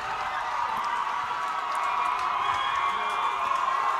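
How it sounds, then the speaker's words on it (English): A loud crowd murmurs and cheers continuously in the stands at a Friday night varsity high school football game, a steady wash of voices with scattered shouts and claps. "Love seeing a good crowd. It's loud."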